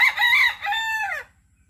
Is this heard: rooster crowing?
yes